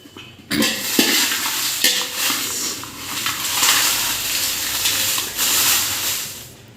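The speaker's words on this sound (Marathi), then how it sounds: "याला सुद्धा आपल्याला व्यवस्थित पाच एक मिनटं भाजून घ्यायचे" Spices and dried red chillies dry-roasting over low heat in a pan for Solapuri kala masala, a steady dry rustling and scraping as they are stirred, with a few louder clatters of the spoon against the pan.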